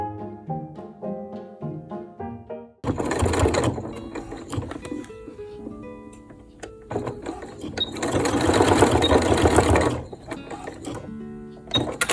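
Sewing machine top-stitching a simple skirt in long loud mechanical bursts of rapid clattering, separated by pauses with faint ticking and tonal background notes.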